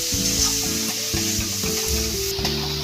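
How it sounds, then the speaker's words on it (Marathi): A jaggery mixture for sweet coconut vadya sizzles in a pan over a low flame while being stirred until it melts, with a close, steady crackling fry and spoon movement, and no talking. "इथे आपण गूळ वितळेपर्यंत हलवून घेणार आहोत"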